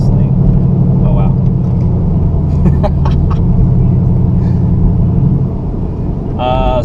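Engine of a 2014 Ford Mustang GT with an automatic transmission, droning loudly as the car accelerates and shifts, with road rumble throughout and a voice briefly heard over it.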